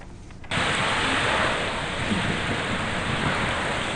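Heavy monsoon rain with a deep thunder rumble starts abruptly and keeps a dense, steady roar, loud and close, with no voices.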